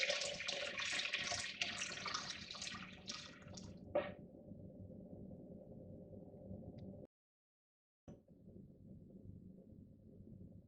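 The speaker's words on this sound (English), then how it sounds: "Alternatively, you can fill the water tank from a stationary position." Water pours steadily into the water tank of a De'Longhi Motivo pump espresso machine with a hollow, filling gurgle, then a brief pause before a quieter steady flow resumes.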